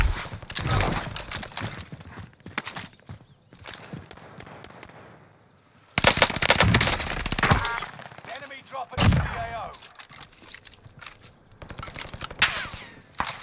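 Rapid automatic gunfire from a UGM 8 rifle in the video game Warzone, bursts of dense cracking shots that stop for a moment near the middle and then resume loudly, with some voice mixed in.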